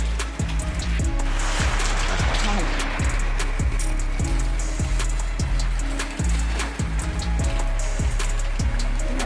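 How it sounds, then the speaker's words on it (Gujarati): Heavy rain pours steadily in midsummer, with a windstorm, a dense hiss of drops drumming on surfaces, loud and continuous with scattered sharper patters throughout. "જો વરસાદ ચાલુ થઈ ગયો ભર ઉનાળા"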